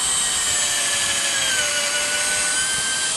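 A power drill bores into a wooden deck-roof baluster, giving a loud, steady, high whine that holds without a break and has no voices over it.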